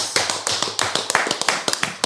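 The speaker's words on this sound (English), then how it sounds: "Round of applause." A small studio audience clapping on a podcast set, a sparse, uneven patter of a few hands with distinct individual claps, fairly close and brief.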